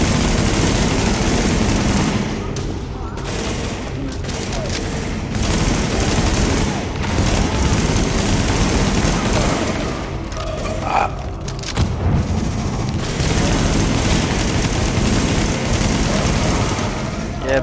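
Burst-fire gunshots from The Division's Dark Zone ring out in a dense, loud, continuous barrage of booms and rattling fire that fills the whole stretch with little pause.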